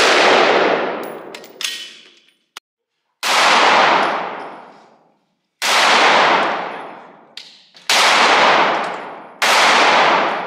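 Gunshots at an indoor shooting range, four or five loud sharp reports spaced a couple of seconds apart, each followed by a long decaying echo, with a faint metallic clink between.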